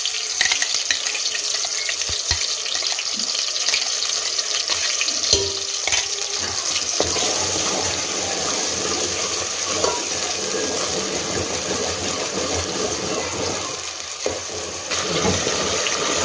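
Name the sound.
onion and tomato paste frying in hot oil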